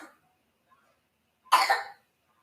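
A man coughs once in a harsh, loud burst off to the side after a brief quiet stretch, with only faint sounds before it.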